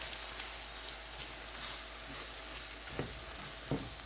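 Cumin, paprika, coriander and turmeric sizzling steadily in a hot pan as they are stirred, a close, continuous frying hiss with a few soft utensil clicks.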